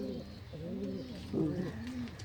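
Pigeons cooing close by in a loft where a pair's chick died, with several soft, throaty rolling coos in a steady rhythm and no talk.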